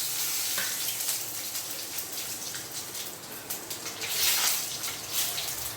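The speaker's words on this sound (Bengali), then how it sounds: "ফোড়নটা একটু ভেজে নিতে হবে" Panch phoron and bay leaf frying in the leftover oil from frying sweet pumpkin, a steady close sizzle with crackling pops that swells briefly near the end.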